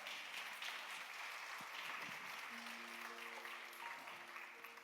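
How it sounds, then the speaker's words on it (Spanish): A church congregation claps in steady applause, a dense, continuous patter of hands that sounds somewhat distant and quiet, with faint tones ringing under it. "yo creo que ahí merece un aplauso el Señor."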